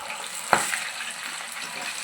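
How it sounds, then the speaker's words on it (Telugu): Ginger garlic paste dropped into hot oil in a pan for mutton curry, giving a brief sharp crackle followed by a steady soft sizzle, close by. "ఆయిల్ హీట్ అయిన తర్వాత అల్లం వెల్లుల్లి పేస్ట్ వేస్తున్నాను"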